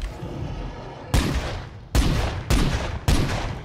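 Gunfire in the zombie survival game State of Decay 2: a run of four or five loud, sharp shots spaced about a second apart, each with a rumbling tail, over low background noise.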